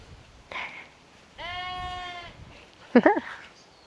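A sheep lets out one long, wavering bleat, followed by a few short, sharper animal calls close by.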